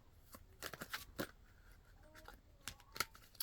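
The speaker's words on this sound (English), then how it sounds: "Shuffle better, Kelita." Tarot cards are shuffled close and quiet, with a run of crisp riffling slaps and flicks in uneven bursts over a few seconds.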